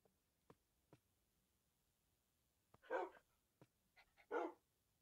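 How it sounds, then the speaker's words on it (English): A dog in the video game Minecraft barks a few times at a distance, short muffled bursts separated by quiet pauses and faint clicks, with no talking. "I hear barking."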